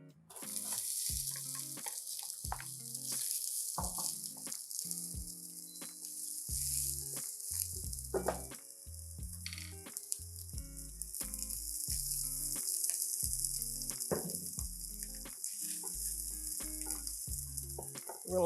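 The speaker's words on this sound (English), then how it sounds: "So first we're gonna start off with a little bit of oil in the pan. Gonna put our onions in." Onions fry in oil in a pan for chorizo and white beans, a steady bright sizzle that holds throughout, with scattered clacks and taps of a utensil against the pan and no speech.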